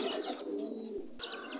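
Pigeons coo on a pigeon farm, a close, continuous murmur of soft repeated calls with a few brighter bird notes over it, and no one speaking.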